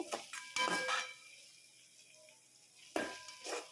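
Tomatoes sauté in oil in a pan, with a few sharp stirring and scraping bursts over a faint, quiet sizzle in between.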